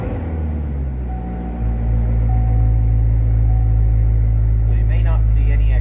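A 2014–19 Chevrolet Corvette C7 engine cranks and fires up, settling into a deep, loud, steady idle rumble close by, with a voice briefly heard near the end.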